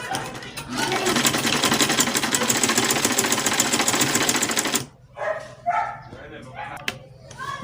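A sewing machine stitches around a fabric lining for a ruffle rose rosette, running as a loud, steady rapid whir for about five seconds before stopping; quieter handling noises and faint talk follow.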